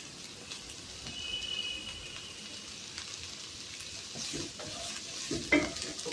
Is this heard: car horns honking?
no